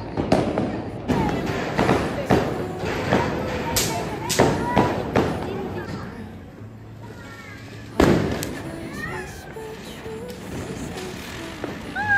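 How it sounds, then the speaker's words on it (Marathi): Firecrackers burst around a residential housing society during Diwali Lakshmi Puja night: a rapid string of loud, sharp bangs and thuds, then scattered quieter pops with one heavy blast later, echoing between buildings. "फटाके वाज चालू आहे इथं सोसायटीमध्ये"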